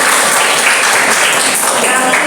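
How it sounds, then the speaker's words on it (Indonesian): Group of students in a classroom clapping together, loud close-up rapid applause filling the room continuously with some voices mixed in. "tepuk tangan buat kita semua"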